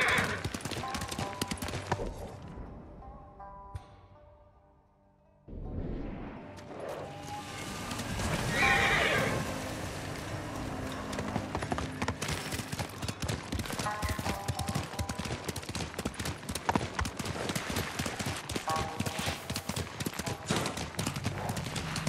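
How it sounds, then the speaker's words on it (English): A horse whinnies and hooves clip-clop amid busy video game sound effects in Ghost of Tsushima, with a brief lull before the action resumes loudly. "Good horse, Noble."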